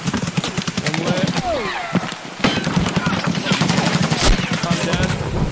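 Gunfire in the Escape from Tarkov video game, loud rapid bursts of shots crackling through the whole stretch while someone talks over it.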